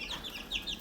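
A mother hen, a Roundhead-Lemon gamefowl cross, clucks softly in short repeated calls, close by with a light background hiss and no talk.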